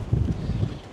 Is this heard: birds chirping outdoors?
no